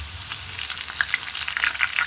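Potato chips frying in hot oil, a dense close crackling sizzle with small popping bursts throughout a brief stretch, no talk.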